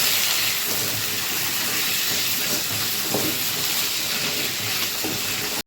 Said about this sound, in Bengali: এবার এর মধ্যে কচুগুলো দিয়ে দিচ্ছি একটা আলু কেটে রেখেছিলাম ওটাকেও দিয়ে দিলাম